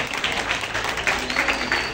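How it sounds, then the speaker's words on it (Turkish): Wedding guests at a Turkish civil marriage ceremony applaud the witnesses, a short burst of many hands clapping at moderate loudness in a room, with no talk over it. "Şahitlerimize de kuvvetli bir alkış istiyorum."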